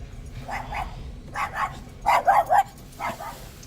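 A dog barks in short bursts, about four clusters of sharp barks over steady low background rumble, fairly close.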